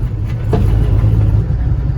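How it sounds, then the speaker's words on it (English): A turbocharged LS engine swapped into a Caravan runs with a knocking fault, a close, loud, low rumbling idle with a steady mechanical throb and no talking over it. "Man, this engine's knocking."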